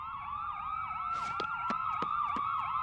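Several ambulance sirens wail at once, their rising and falling tones overlapping in a continuous, fairly close chorus, with a few sharp clicks or taps punctuating the sound.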